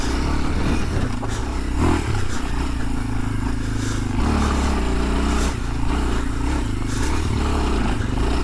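Kawasaki KLX230R dirt bike ridden in second gear through tight trail sections, its single-cylinder engine a steady, loud, close putter with small throttle swells and clatter from the terrain.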